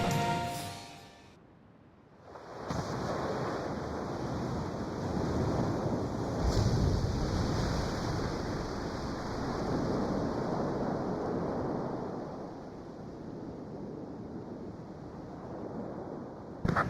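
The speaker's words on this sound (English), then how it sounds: "Emergency surface. Grab onto something." The submarine Rimfaxi makes an emergency surface through ocean waves in Ace Combat 5: after a short quiet gap a loud, sustained roar of rushing water and wind swells in and holds for over ten seconds.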